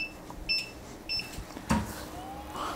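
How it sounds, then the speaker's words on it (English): An UP Plus 2 3D printer initializing: two short, faint electronic beeps in quick succession, followed by a soft mechanical clunk and a rising whir as it moves its platforms to find the home positions. "The unit will beep, and then it will start moving the platforms around, searching for the home positions."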